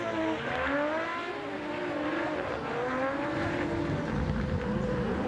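A 1.5JZ-powered Nissan S14 drift car at Manfeild Circuit, its engine wailing and revving in wavering surges alongside constant tire noise, loud and sustained throughout.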